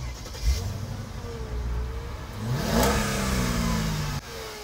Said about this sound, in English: This is the SL60 AMG original muffler,